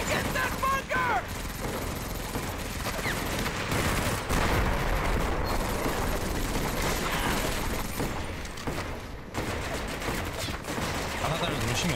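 Machine gun fire in the video game Medal of Honor: Vanguard, rapid bursts of loud gunshots overlapping with battlefield noise and chatter, sustained across the whole stretch.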